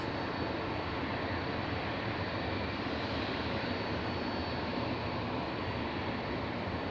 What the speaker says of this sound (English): I like the shape of them, I like the noise they make. They've got a very unique engine profile noise.